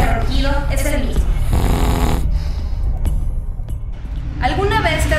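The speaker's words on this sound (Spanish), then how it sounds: "¿Alguna vez te has preguntado qué es roncar?" Loud, close snoring of a sleeper comes in rough, rumbling breaths with throaty, voice-like tones, in repeated swells.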